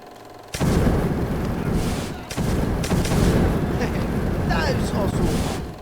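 Artillery firing in the wartime video game Motherland, a dense, loud barrage of booming blasts and rumble that continues almost without pause, with voices speaking over the battle.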